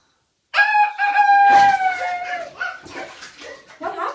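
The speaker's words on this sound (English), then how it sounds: "Did the chicken wake you up?" A rooster crows loudly and close, one long drawn-out call followed by shorter broken notes, heard near someone bathing in a tub.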